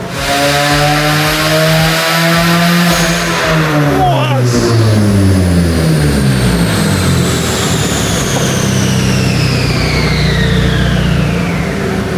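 Car engine on a horsepower dyno run, revving loudly and continuously, its pitch climbing and sweeping through the range over twelve seconds before easing off.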